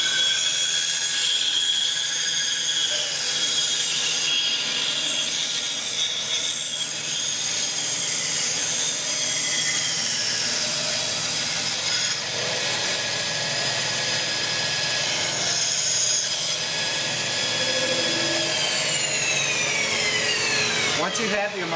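Bandsaw cutting material with a slow feed, a steady loud whining drone from the running blade and motor throughout, with subtle shifts in pitch as the cut progresses.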